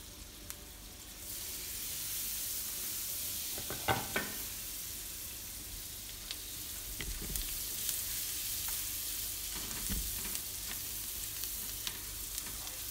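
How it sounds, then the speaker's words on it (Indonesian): Garlic sautés in margarine in a pan, a steady close sizzle with a few soft clinks and scrapes as it is stirred. "Tumis bawang putih."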